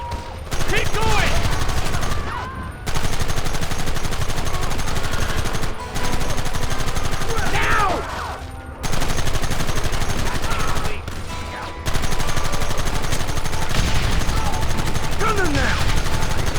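Gunfire from a Red Dead Redemption shootout, sustained dense volleys and overlapping rifle and pistol shots running almost continuously, with brief lulls, beneath shouted voices.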